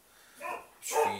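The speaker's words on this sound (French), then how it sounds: "ça c'est mon chien" An angry house dog barks indoors, apparently at a knock downstairs, two short muffled barks a moment apart, the second louder and closer.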